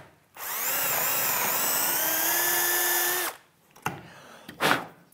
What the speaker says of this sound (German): wir können also direkt bohren.